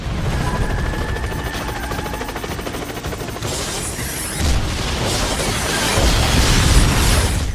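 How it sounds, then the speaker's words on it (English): Missile explosions in the racing video game Split/Second: dense, continuous booming blasts and rumbling impacts layered with engine roar, loud and sustained throughout with a heavier burst near the end. "Really laying the missiles on thick here."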